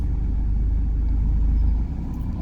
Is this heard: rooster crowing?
no